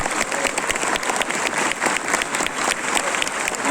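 A crowd claps at a political mayoral campaign rally in Quito, a dense, steady wash of applause that stays lively and fairly close throughout, with no speech over it.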